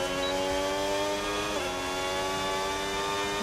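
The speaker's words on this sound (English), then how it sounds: "they do know how to make a engine sing, even though it's a plucky V6" The Ford V6 engine of a Red Bull race car in a racing video game drones at a steady high pitch in an onboard view, with a brief dip and recovery around a shift midway.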